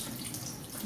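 Tap water runs steadily into a sink while rice is rinsed, a close, continuous splashing rush with no voices.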